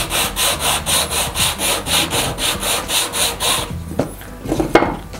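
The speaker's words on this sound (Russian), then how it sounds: "Мы также ее можем использовать для шлифования поверхностей" Sandpaper rubbing back and forth over a wood surface in a steady rhythm of about a dozen even strokes, close and fairly loud, then breaking into a few irregular scrapes and knocks near the end.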